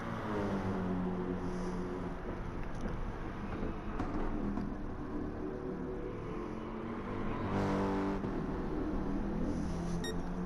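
A race car engine drones steadily on track in the GT Sport video game, a continuous moderate hum with slight pitch shifts from gear changes and corners, a few faint beeps, and no voices.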